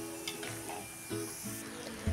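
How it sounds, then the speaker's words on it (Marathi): Corn poha, flattened corn flakes, frying in hot oil, giving a continuous close sizzle with soft crackles and a faint stirring clatter, with no speech. "मका पोहे तळत असताना एक गोष्ट नेहमी लक्षात ठेवा, तेल चांगलं कडक गरम करून घ्या"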